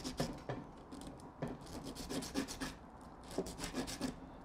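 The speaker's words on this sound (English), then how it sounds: "So let's sand the outsides here, just along these little ridges here." The ridges of a Master Airscrew drone propeller are sanded by hand, quiet close rasping strokes in short back-and-forth bursts with brief pauses.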